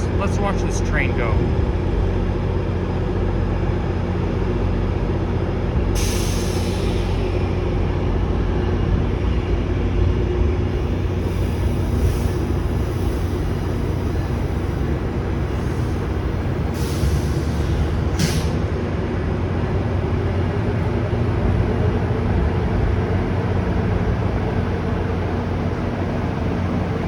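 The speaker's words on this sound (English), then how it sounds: "let's watch this train go" A GO Transit commuter train on the Richmond Hill line passes by in fall, a steady low rumble and rolling rattle sustained throughout, with a few brief hissing bursts over it.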